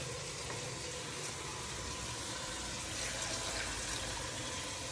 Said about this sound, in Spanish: Le vamos a agregar agua.